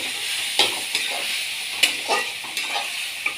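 Spices and chili powder fry in a pan for a fish curry with ridge gourd, potato and pointed gourd, a constant sizzle broken by several sharp spatula stirs and scrapes, with no talking.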